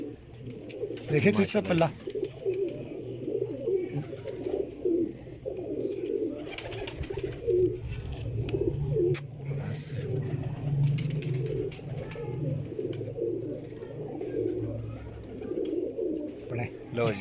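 Pigeons cooing in low, repeated rolling calls throughout, fairly close, while someone talks over them on and off.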